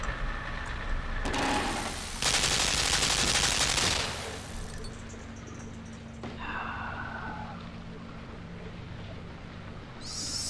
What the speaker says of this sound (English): I also just noticed that machine gun.